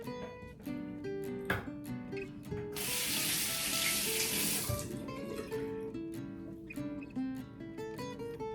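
Tap water runs into a bathroom sink while rinsing up after a shave, starting as a broad steady rush partway through and stopping after a couple of seconds, set against a background with a recurring melodic tone pattern.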